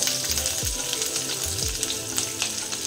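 Crushed ginger sizzles steadily in hot oil in a pan with radish being cooked, a continuous close frying hiss with brief stirring scrapes and no talk.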